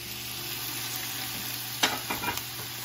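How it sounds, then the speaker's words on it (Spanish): Onions, garlic and chiles fry in a pan for a fish and shrimp broth, a steady dense sizzle with a few louder scraping stirs near the end, close and without talk. "Todo lo vamos a freír."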